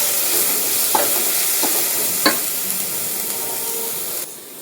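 Ginger garlic paste for biryani is stirred in a hot pan, with a loud hissing sizzle under a few quick spoon scrapes and clinks, and a sudden drop in the hiss near the end.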